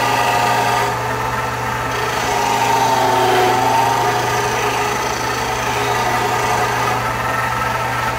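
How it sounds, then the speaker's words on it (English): A Grizzly H192 sander runs steadily with a constant motor whine and hum, close by and without pauses, with no voices. "it's a great little sander"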